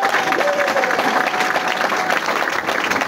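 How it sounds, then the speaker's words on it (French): A large audience claps at a cultural ceremony, a loud continuous wash of applause with a few cheers, sustained and even for a few seconds, with a voice faintly heard beneath. "Applaudissez s'il vous plaît."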